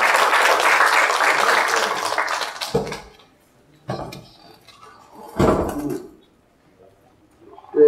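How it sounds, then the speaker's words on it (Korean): An audience at a book talk concert claps loudly for about three seconds to welcome a speaker, then the clapping fades into quiet with scattered clatter and thumps nearby. "박수로 모시겠습니다."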